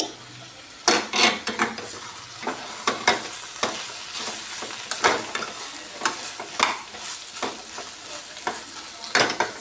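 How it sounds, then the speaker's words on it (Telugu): Drumstick masala curry sizzles in a pan while a spoon stirs and scrapes it, giving repeated sharp scraping strokes over a steady frying crackle. "చూద్దాం ఒకసారి కర్రీ వేగుతుంది"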